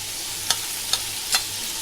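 Ginger and garlic sizzle in a large pot for a Konkani wedding-style deg biryani, with three quick scraping stirs over a soft, continuous frying hiss.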